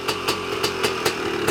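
Small tuned motor idling, a steady rapid putter with regular sharp pops about five times a second, close and fairly loud, with no speech.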